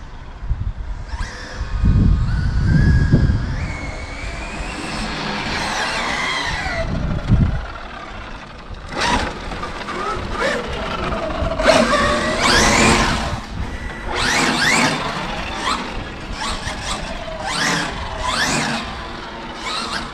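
An FG SportsLine 4WD RC car with an electric 530 motor on a 12S battery whines in rising and falling bursts of acceleration, loud and near, with tire scuffs and rustling between runs.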